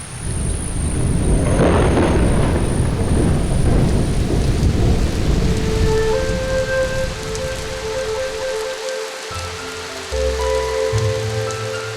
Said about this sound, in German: Die Regenzeit setzt ein.